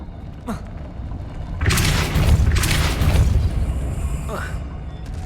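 Depulso spell in Hogwarts Legacy, a heavy booming blast with a rumbling, crackling tail lasting a couple of seconds, preceded and followed by softer whooshing effects, loud and close.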